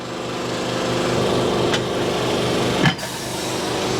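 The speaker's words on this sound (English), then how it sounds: "There's the noisy compressor." Noisy air compressor running steadily in a garage during tire work on a 1973 Mustang Mach 1, a loud continuous mechanical drone with brief clanking knocks near the end.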